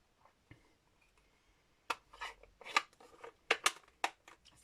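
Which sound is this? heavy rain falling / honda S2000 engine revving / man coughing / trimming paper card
trimming paper card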